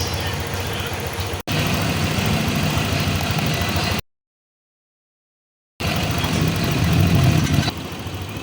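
A Honda Click 125i fuel-injected scooter idles after an idle and mixture adjustment, giving a steady, even engine hum. The sound breaks off briefly in the middle, then resumes unchanged.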